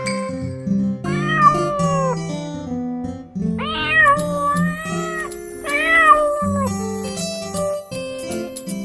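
Several kitten meows sound over gentle music, each a short rising-and-falling cry, coming in small clusters.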